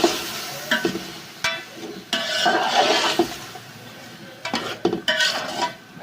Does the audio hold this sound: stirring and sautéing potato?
yes